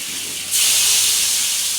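Hilsa fish pieces drop into a hot pan and set off a sudden loud sizzle that rises sharply about half a second in and then holds as a steady hiss, close by.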